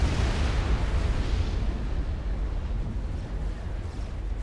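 An explosion rumbles in a 4v4 tournament video game battle with gunships and destroyers: a deep, loud, noisy roar that fills the whole stretch and slowly fades, with no voices.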